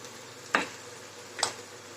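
Green chilli and raw mango thecha roasting in a pan, with a faint continuous sizzle broken by two short scraping stirs about a second apart, close and without talk.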